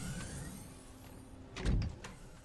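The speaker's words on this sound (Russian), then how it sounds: "Но это халява, когда в комнате все двери открываются." Doors sliding open in the video game Half Dead, a low mechanical rumble with a heavy thud and clank midway against a quiet hum, no talk.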